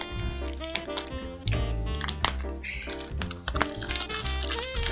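Plastic crinkles and crackles as a taped-up sealed plastic bag holding yarn is handled and pulled open, with music playing in the background.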